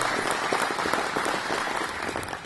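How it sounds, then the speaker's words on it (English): An audience at an aviation industry forum applauds, steady close clapping that carries on evenly and tapers slightly at the end. "round of applause for Duncan here too"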